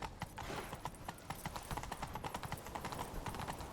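Rapid, rhythmic clip-clop of horse hooves at a steady gallop in the video game The Witcher 3, fairly close and continuous, with no talking.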